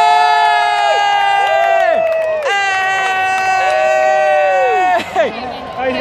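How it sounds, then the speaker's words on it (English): A crowd at the Southern 500 race cheers loudly for Richard Petty, with long whooping shouts that rise and then fall away, overlapping in close, sustained waves. "We're cheering for Richard Petty"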